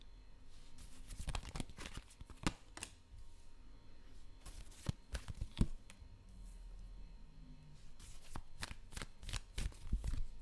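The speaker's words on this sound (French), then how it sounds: "Je vais juste poser d'autres cartes" Tarot cards are shuffled and laid out on a surface, giving quiet, irregular bursts of riffling and slapping snaps in close, intimate detail with no voice over them.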